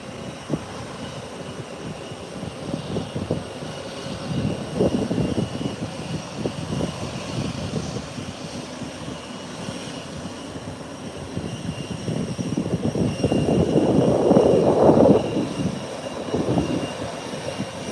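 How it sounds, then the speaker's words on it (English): A Beechcraft 1900 turboprop taxis in to park at an international airport, its engine drone rising and swelling nearer toward the end over a low steady hum, without talk. "Beechcraft 1900. Rolling in to park."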